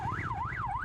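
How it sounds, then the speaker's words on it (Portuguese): A police-style siren fitted to a motorcycle wails up and down in a smooth rising and falling sweep over the low rumble of the bike, loud and close with no talk. "bota ali a sirene"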